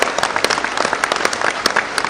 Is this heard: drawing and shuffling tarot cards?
no